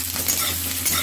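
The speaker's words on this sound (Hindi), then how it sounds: "अच्छी तरह से हम चलाएंगे" Onions with salt sizzling steadily in hot oil in a pan, stirred for Punjabi-style rajma masala, a continuous close frying hiss with faint scraping of the spoon.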